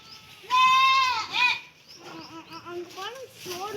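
Goats bleating on a goat farm: a loud, wavering bleat opens the clip, then softer, shorter bleats and calls follow in an irregular series close by.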